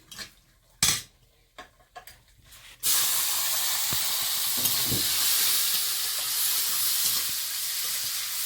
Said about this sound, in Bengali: আর একটু কিশমিশ এটাও এখন একটু হালকা ভাজবো